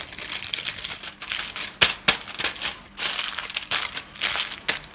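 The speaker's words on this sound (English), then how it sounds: "And then fold this up. Not the neatest foil work you'll ever see," Aluminium foil being folded up by hand during a hair colour application, a close, loud run of crinkling and crumpling bursts with a few sharper crackles and no talk.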